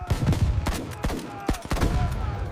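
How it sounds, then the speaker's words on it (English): Rapid bursts of machine gun fire in a WWII battle reconstruction, sharp cracks coming in irregular clusters with loud, close reports and short gaps between volleys. "Reload the machine gun,"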